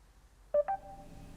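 Two short electronic dialing tones from a Mercedes in-car voice assistant placing a phone call, sounding in quick succession with a faint ringing tail, fairly quiet.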